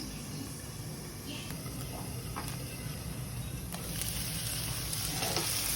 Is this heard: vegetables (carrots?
yes